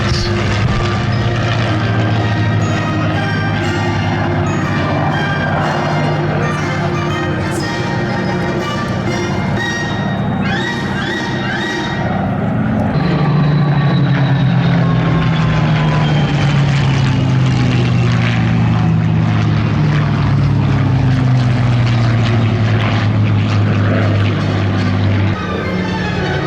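WWII fighter planes, Spitfires and Hurricanes, fly overhead at the Duxford airshow, their propeller engines droning loudly and continuously with a pitch that drops as they pass, over a steady roar.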